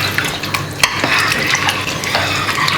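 Beef with potatoes and beef stock being stirred in a pot, a steady wet scraping and sloshing with a few sharper utensil knocks against the pot, close and fairly loud.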